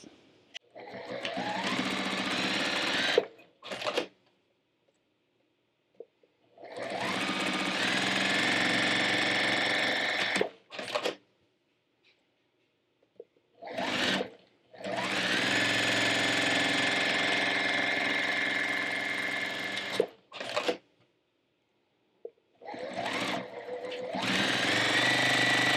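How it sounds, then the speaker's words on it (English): A sewing machine stitches a fabric seatbelt cover in several long, loud runs, each whirring steadily for a few seconds before stopping, with short pauses and clicks between runs. "make sure that when you start and stop your sewing that you backstitch"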